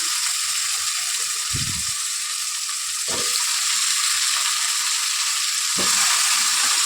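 Cut eggplant and potato pieces frying in oil in a pan for an aloo vankaya curry, giving a loud, continuous sizzle with a few short bumps and scrapes from stirring.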